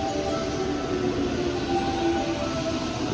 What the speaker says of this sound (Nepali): जाँदै ट्रेन पनि आइसक्यो।